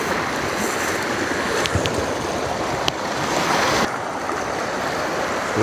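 Steady rushing water fills the whole clip, a broad continuous wash with a couple of faint clicks, close and fairly loud.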